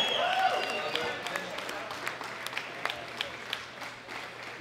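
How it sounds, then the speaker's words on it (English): Audience applause for a gold medal winner setting a new world record at a junior women's world classic powerlifting championship, a steady spread of clapping with sharper individual claps standing out, moderately close, with voices mixed in. "A big round of applause for Evie Corrigan."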